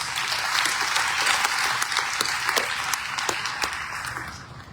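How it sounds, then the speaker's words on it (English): Audience applause at the South African election results announcement, a full round of clapping that holds steady and then tapers off slowly. "I think we should give them a round of applause."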